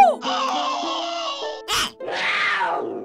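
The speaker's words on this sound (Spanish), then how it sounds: "Pero tal vez lo más raro de todo eran las voces de Mario y Bowser" Beta-version Super Mario 64 character voices for Mario and Bowser, heard as a short pitched yell followed by drawn-out, groaning and roaring vocal sounds, loud and close with a brief sharp burst in between.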